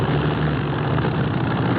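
A steady, droning aircraft engine plays as a sound effect in an old-time radio mystery drama. The engine rumbles continuously and fairly loudly throughout, with no voices over it.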